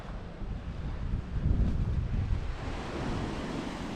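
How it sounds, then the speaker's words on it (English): Ocean waves crash and churn into a small rocky cove on the Scottish coast, a loud continuous roar of surf swelling and easing, with wind buffeting the microphone and no voices. "Look at it, the waves are ripping into this."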